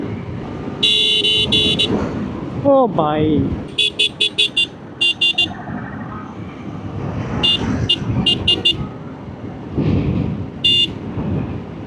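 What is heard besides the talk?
faulty motorbike horn sounding like auto-rickshaw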